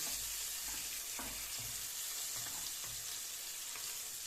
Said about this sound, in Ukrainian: І продовжуємо жарити всю печіночку.